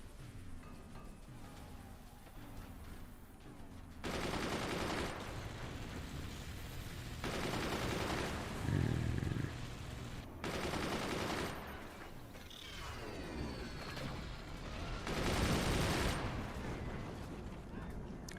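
Cannons fire in rounds during a match of the real-time strategy game Forts, with bursts of heavy booming gunfire recurring every few seconds over a constant background of battle noise and mechanisms.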